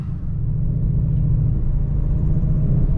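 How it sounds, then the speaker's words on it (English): A 2024 Ford Mustang GT fitted with a Whipple supercharger and tune downshifts, giving a steady, loud, deep engine rumble that holds close and even throughout without talk. "Oof, listen to this downshift."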